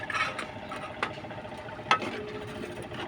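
Coconut milk (gata) in a cooking pot bubbling at a steady simmer, heard close up with soft continuous crackle and an occasional louder pop or clink.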